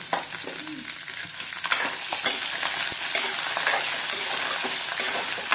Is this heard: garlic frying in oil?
yes